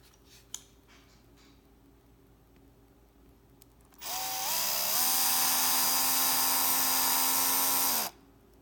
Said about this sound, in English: take a 3/16 inch drill bit and start by drilling out these two plastic